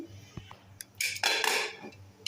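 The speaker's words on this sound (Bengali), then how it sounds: "এখন আমি প্রেশার কুকারের মুখটা লাগিয়ে" Pressure cooker lid being fitted while cooking beef tripe: a few close metallic clanks and a short scraping rattle of metal on metal, then a final tap.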